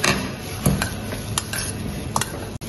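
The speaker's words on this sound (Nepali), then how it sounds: "यसलाई बिस्तारै मिक्स गर्छु।" A salad of lettuce with green and black olives is mixed slowly in a bowl. Close, soft rustling and squishing run throughout, broken by a few sharp clinks and taps of utensils against the dish.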